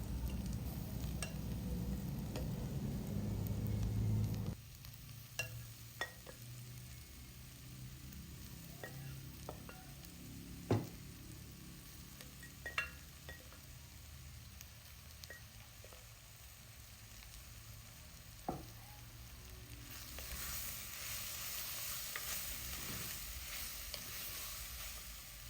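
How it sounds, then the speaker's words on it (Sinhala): Soya meat sizzles and fries in tempered spices for a Sri Lankan curry, a loud frying hiss at first that settles into a quieter crackle, with occasional clinks and scrapes of stirring and a renewed sizzle near the end. "දැන් මේ ටික තෙම්පරා දුනාට පස්සේ මේකටම සෝයා මීට් ටික එකතු කරනවා."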